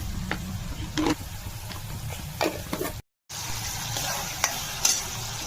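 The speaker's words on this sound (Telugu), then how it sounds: "ఇప్పుడు టమాటోస్ వేసుకొని మగ్గించుకోవాలి" Tomatoes sizzle gently in a pan for a stuffed brinjal curry while a spoon scrapes and stirs in scattered strokes, with a short break of silence midway before the soft frying hiss resumes.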